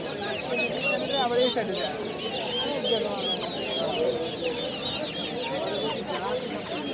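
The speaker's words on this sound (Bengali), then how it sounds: "তাছাড়াও রয়েছে এখানে ছোট ছোট মুরগির বাচ্চা" Chicks and chickens at a wholesale poultry market, a dense continuous chorus of high peeping and clucking birds close by, with voices in the background.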